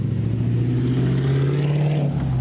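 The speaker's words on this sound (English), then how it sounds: "Sorry guys, you're gonna hear some cars and traffic and potentially people talking in the background." Street traffic goes by: a steady, close engine drone of a passing car or truck holds for a couple of seconds, with no voices.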